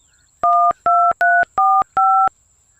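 Five evenly spaced telephone keypad tones beep as a number is dialed on a phone, each a clear two-tone note lasting about a quarter second, loud and close over a faint steady line hum, with no talking.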